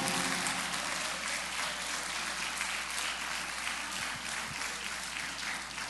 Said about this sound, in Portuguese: Pode aplaudir mais forte.